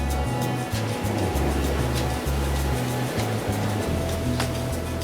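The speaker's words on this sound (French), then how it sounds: "C'est carrément top les vagues là." Ocean surf breaking over a reef, a steady loud wash of water with a low droning rumble underneath throughout.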